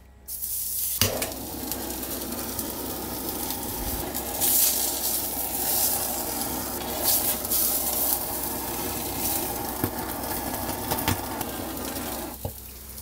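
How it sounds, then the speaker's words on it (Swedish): An entrecote steak sears loudly in a hot frying pan after sous vide cooking, a continuous crackling sizzle with occasional sharper pops and a clatter at start and end. "nu är det bara att avsluta precis som vi började genom att steka den."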